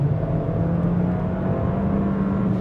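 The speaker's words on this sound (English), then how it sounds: "let's power out a little bit more here" A 2026 Volkswagen Jetta Sport engine pulls under throttle while driving, a continuous close-up hum with a steady low drone and no voices over it.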